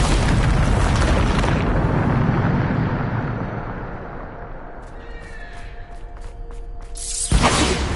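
A Bombarda spell explosion in Hogwarts Legacy bursts loudly and rumbles for a few seconds before fading, then a second sharp blast hits near the end.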